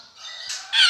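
A caged bird at a bird dealer's shop gives a quick series of harsh, rising squawks, growing louder over about a second, close and alone.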